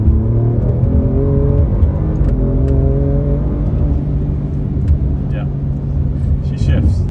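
A twin-turbo 500-horsepower Alfa Romeo Giulia Quadrifoglio revs and accelerates with a steady, loud engine drone rising in pitch under in-car talk.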